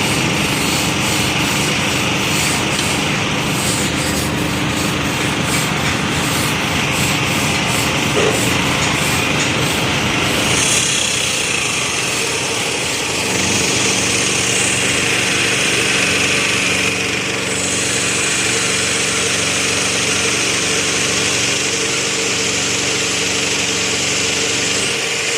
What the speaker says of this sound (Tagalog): napakaingay po ang kanilang generator dito sa ating likuran